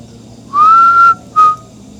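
A person whistles two clear notes, a longer rising tone followed by a short one, loud and close in a quiet space.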